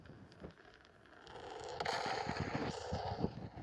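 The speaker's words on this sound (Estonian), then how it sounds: "Väike tuumapommikene. Väga väike." A small nuclear bomb detonates in the City Smash video game, a dense crackling, rumbling burst that swells and stays loud with popping bursts over several seconds.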